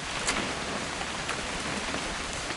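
Steady rain in the video game What Remains of Edith Finch, a dense even hiss of falling drops with a few brief louder spatters, no voices.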